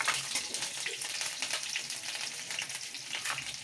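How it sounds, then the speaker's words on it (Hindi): Finely chopped green chillies hit hot oil already holding mustard seeds and curry leaves, giving a steady close crackling sizzle with light stirring, quiet and free of talk. "ये मैं 2 हरी मिर्ची बारीक जो काट रखी थी वो डाल रही हूँ।"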